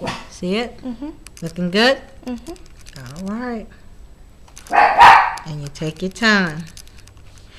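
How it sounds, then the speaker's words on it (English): Pet dog barking and whimpering indoors during a hair-braiding session at home, several short barks and yips in bursts, with someone talking calmly between them. "that's my dog barking"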